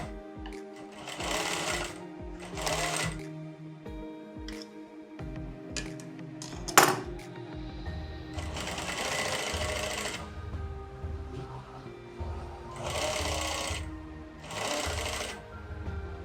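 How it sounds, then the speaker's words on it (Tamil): A sewing machine stitches a line along lining fabric on a skirt, running in repeated bursts of rapid clatter separated by short pauses, loud and close. "அதுக்கு மேலே அப்படி படிமான தையலை ஓட்டணும்"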